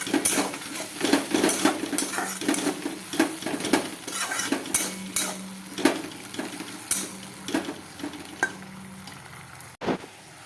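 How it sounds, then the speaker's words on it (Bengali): Muri ghonto being stirred and sautéed in a pan: steady scraping of a spoon against the metal, with repeated clinks and a soft background sizzle running throughout, close and fairly loud. "এটাকে এখন ভালো করে কষাবো"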